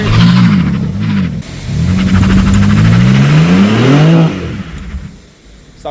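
A BMW M4 revs hard while drifting, its engine note climbing and falling in repeated loud surges up close, then easing off to a quieter idle near the end.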